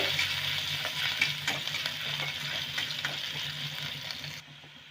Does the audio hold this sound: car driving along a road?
no